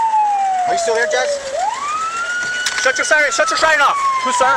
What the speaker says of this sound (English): Shut your siren off.